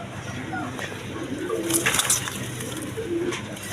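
Large, high-quality pigeons at a loft sale, including a Modena pair, coo in a low repeated rumble close by amid background noise.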